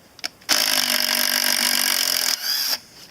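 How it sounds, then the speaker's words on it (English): A 12 volt DeWalt impact driver drives a fastener in one sustained burst of rapid hammering whir lasting about two seconds, then eases off with a short lower tail, close up and with no talking. "12 volt DeWalt impact driver."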